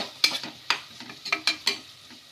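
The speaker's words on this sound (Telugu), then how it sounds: "ఇలా అల్లం వెల్లుల్లి పేస్ట్ కూడా వేసుకొని ఒకసారి మొత్తం బాగా కలిపేసుకున్నాము." Ginger garlic paste being stirred in a pan, with about six sharp scraping strokes of a spoon, close and distinct, over a soft background sizzle.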